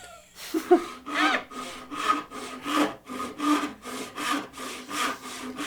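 A hand saw cutting through wood, about eight steady, rhythmic back-and-forth strokes, close and clear with no talking.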